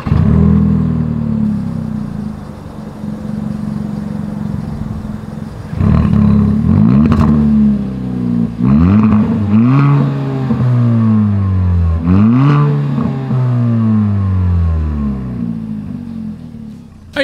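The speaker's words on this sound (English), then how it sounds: "As always, here is that exhaust clip." A 2024 Kia Forte engine idles with a deep exhaust rumble, then revs sharply several times, each rev rising and falling back, loud and close.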